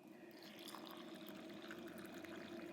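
Hot water pours from a small container into a French military ration pouch, giving a faint, steady trickle against a low room hum.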